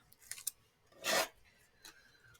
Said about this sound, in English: So pick off the double-sided tape, liner